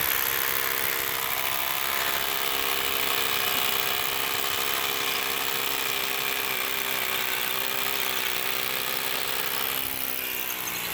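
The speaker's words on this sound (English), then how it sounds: "this morning I've had Marvin drilling that hole." A power drill drilling a hole on a house build in the Philippines whines continuously at a steady pitch, loud and close, with no pauses and no talking.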